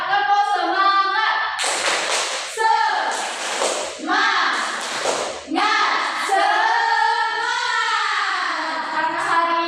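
A class in a microteaching lesson on the human respiratory system performs a rhythmic 'tepuk semangat' clap routine. Chanting voices carry most of it, broken by several short bursts of clapping.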